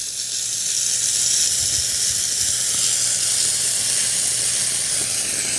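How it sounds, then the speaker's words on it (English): A Shark steam mop, a Steam Starter model, releases a continuous, loud, even hiss of steam up close with no break or talk. "We're getting steam coming out."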